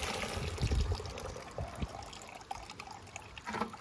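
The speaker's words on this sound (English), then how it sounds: "So now you're just straining it out to get all the cigarettes" Cigarette-soaked liquid solution strained to remove the cigarette parts, a steady close trickle and splash of pouring water with small drips, no talking.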